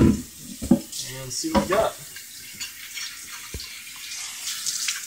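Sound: water rinsing a vise part under a tap

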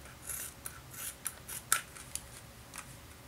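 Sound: scissors cutting foam rubber and Worbla

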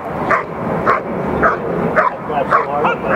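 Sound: dog barking intensely and repetitively

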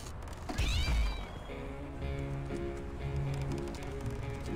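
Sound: cat meowing in video game The Simpsons Hit and Run

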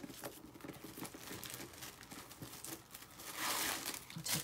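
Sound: tissue paper being removed from skincare packaging

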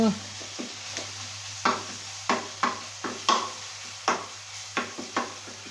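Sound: stir-frying curry paste in oil

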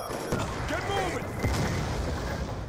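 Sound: Hellstorm missile explosions in Call of Duty Black Ops 2 video game

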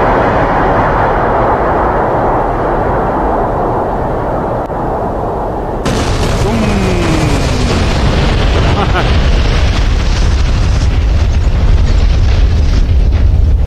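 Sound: bomb explosions from A-10C Warthog in DCS video game

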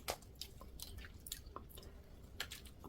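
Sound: chewing spicy mala crayfish

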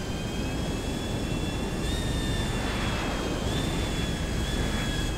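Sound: airplane engine in GTA Online video game

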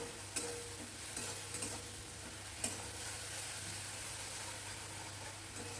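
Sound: spices sizzling while frying: cumin, turmeric, coriander, ginger paste

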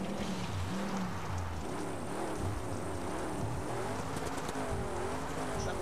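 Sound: car spinning out in Dakar 18 video game

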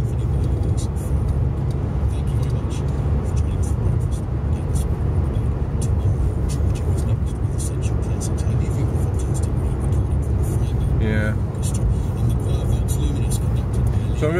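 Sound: car driving on road

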